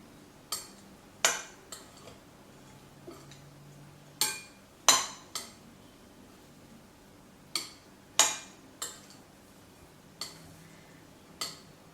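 A spoon mixes kale and quinoa salad in a bowl with sharp, scattered clinks and scrapes, about a dozen quick knocks spaced irregularly over a quiet background.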